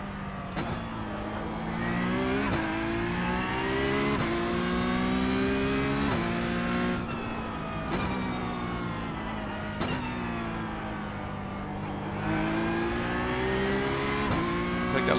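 Porsche Cup race cars lapping Bathurst in iRacing, a loud engine climbing through the revs again and again, dropping sharply at each upshift, with the rising and falling pitch running continuously and no voices.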